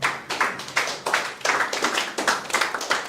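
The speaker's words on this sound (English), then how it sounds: "a very nice, welcoming round of applause" Audience at an academy event giving a welcoming round of applause, a few hands clapping in a fairly rhythmic, close pattern of sharp repeated claps rather than a dense crowd roar.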